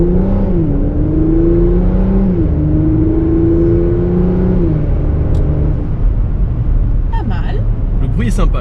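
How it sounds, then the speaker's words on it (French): A 2020 Porsche Macan Turbo with bi-turbo V6 and stock exhaust accelerates uphill through a tunnel, its engine note droning and stepping up through gears, loud and close, then fading under a person talking. "Moi j'aime bien ce bruit de V6."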